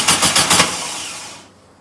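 A performance VW air-cooled engine cranking on its first start, four rhythmic loud starter pulses up close, then a fading whir without catching.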